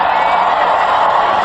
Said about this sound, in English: They really are roaring and cheering